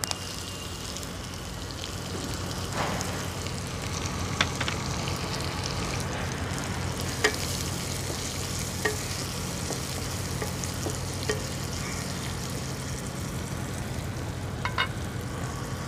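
Onions and green chillies frying in oil with mustard seeds, cumin and home-grown curry leaves, a continuous close sizzle with scattered crackles and pops and occasional stirring scrapes.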